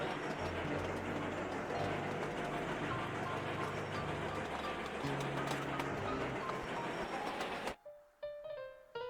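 Freight trains running in a rail-building video game, a steady rumbling clatter of wagons with rhythmic low thumps filling most of the stretch before cutting off abruptly near the end.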